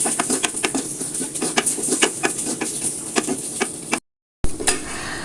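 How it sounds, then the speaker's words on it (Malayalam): Tomato and long-sliced green chillies sautéing in a pan for a roasted-coconut cauliflower curry, with steady sizzling and repeated sharp clinks of a spoon stirring against the pan, briefly cut off near the end. "അതും കൂടി ഇതേപോലെ നന്നായിട്ട് വഴറ്റിയെടുക്കാം"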